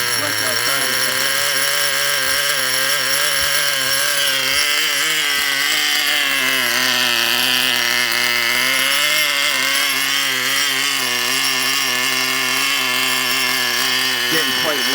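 An old chainsaw engine runs continuously and loud, low on fuel, with its revs drifting slowly upward and wavering in pitch while someone talks over it.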